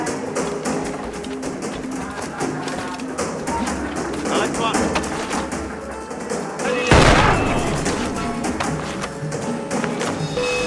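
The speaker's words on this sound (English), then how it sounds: "it's best to use the blunderbuss, Adewale's powerful new weapon. It can easily kill tougher guards" Blunderbuss shots in Assassin's Creed Freedom Cry sound amid busy game noise and a narrating voice, with one loud booming blast around the middle standing out above the ongoing clatter.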